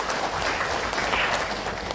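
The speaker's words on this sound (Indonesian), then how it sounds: "Tepuk tangan untuk mereka." Audience applause in a hall during a ceremony opening a disability sports arena in Papua, a continuous, fairly loud patter of many hands clapping.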